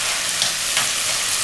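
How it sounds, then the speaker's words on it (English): Corned beef guisado with recao fries in a pan, giving a bright, steady, close sizzle that crackles slightly as the food is stirred, with no talking. "You know how I love to hear food sizzle."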